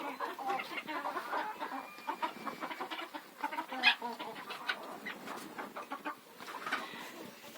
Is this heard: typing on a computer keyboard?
no